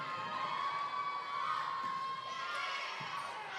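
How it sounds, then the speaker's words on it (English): Cheering from sub-varsity volleyball squads in a high school gym during a girls varsity volleyball match, a steady crowd roar of shouts and whoops with a faint, sustained whistle-like tone running through it. "we're getting some cheering from the sub-varsity squads over there"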